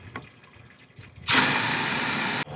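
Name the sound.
RV black tank flush and drain, water running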